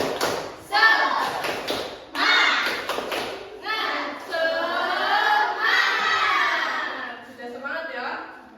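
A classroom of children does the tepuk semangat clapping chant, with bursts of rhythmic claps and thumps and shouted group chanting in several phrases, loud and close.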